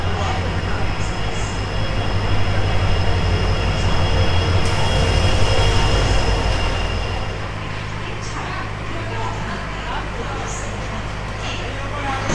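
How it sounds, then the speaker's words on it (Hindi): A train being shunted at a station platform, hauled by an ALCO WDG4 diesel locomotive: a loud, steady rumble of engine and rolling wagons with faint squeals, which eases slightly partway through, while voices murmur in the background. "ट्रेन शंटिंग हो रहा है प्लेटफॉर्म नंबर 1 पे। और ट्रेन को इतना दूर खींच के लेके आया WDG 4 लोकोमोटिव।"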